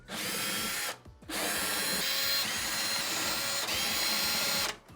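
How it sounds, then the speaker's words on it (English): A power screwdriver whines loudly and steadily as it backs out number 15 Torx screws from a KitchenAid dishwasher panel, running in two long bursts separated by a brief pause, with no talking. "We're gonna start by removing the screws. These are number 15 torx screws."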